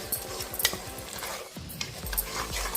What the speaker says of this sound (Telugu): ఇప్పుడు వేసుకున్న మిశ్రమం బాగా కలుపుకోవాలి